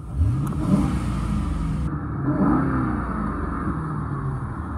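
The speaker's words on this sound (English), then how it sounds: "I'll rev up the engine so you can hear it." A 2010 Ford Crown Victoria Police Interceptor engine revs up loudly, rising and falling in pitch over a rumbling idle, close by with no talking.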